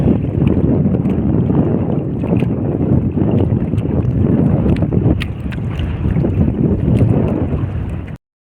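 Strong wind roars steadily across the microphone on a fishing boat out on choppy water, a continuous loud buffeting rush with faint splashes, no talking.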